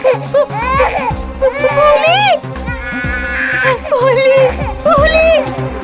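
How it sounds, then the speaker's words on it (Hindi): Loud, wailing cries in a Hindi horror story, sobbing in repeated rising and falling bursts over a low droning music bed, with brief breaks between phrases. "ये किसके रोने की आवाज है?"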